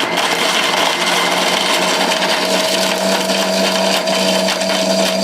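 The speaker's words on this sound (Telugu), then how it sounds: "కొంచెం వేసేసి మిక్సీ పట్టేసేయండి" A mixer grinder blends dry fruits with water into juice, giving a loud, steady motor whine with a constant pitch and no voices over it.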